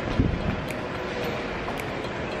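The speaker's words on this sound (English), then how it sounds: "I brought my jacket because it seems pretty windy." Soft, steady wind noise blows across the microphone, with a low thump near the start and a few faint clicks.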